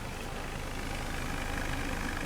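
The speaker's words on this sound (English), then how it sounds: "You can hear the exhaust." A new car's 2.0-liter direct-injected four-cylinder engine idling warm, its exhaust giving a low, steady, even rumble with a faint pulsing texture and no voices.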